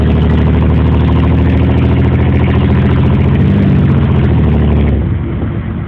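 A 1991 Chevrolet S-10 rat rod truck with straight-pipe exhaust idles loud and close, a deep steady rumble with a slight surge, cutting down sharply near the end.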